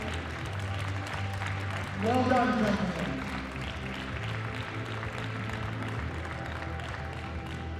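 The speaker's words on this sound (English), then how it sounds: "A round of applause for all participants on platform 2 today." A crowd applauds lifters at a world bench press championship, with steady clapping that builds briefly, mixed with an announcer's voice and background chatter.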